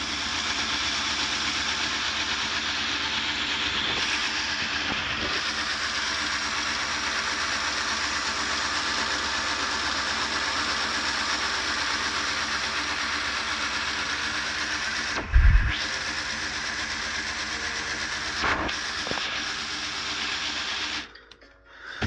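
Small electric motor inside a motorized Lego Titanic model whirring steadily and quickly, a continuous close mechanical hum with a couple of brief knocks and a sudden stop near the end.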